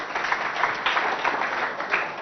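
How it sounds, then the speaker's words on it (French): Brief applause for jury members at a school competition event, a steady wash of crowd clapping heard at moderate loudness, with slight swells throughout. "Applaudissez s'il vous plaît."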